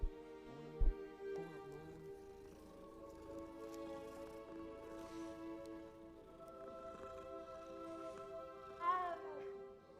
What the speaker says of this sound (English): Another cat I must pet.